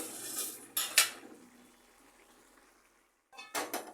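A pan of taro leaves cooking with prawns is stirred, a spoon clattering against metal in two short bursts near the start and another near the end, with a quiet simmer between.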